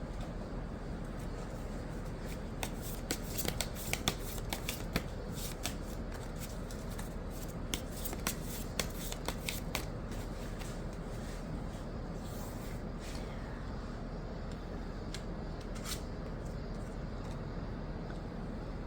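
Tarot cards are shuffled by hand close up, with repeated crisp riffling and flicking bursts throughout, loud and steady, with no talking.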